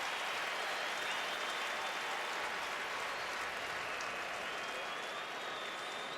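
A stadium crowd at an NFL game, 49ers against Denver, applauds and cheers a football player in a steady, dense roar of clapping that holds evenly throughout.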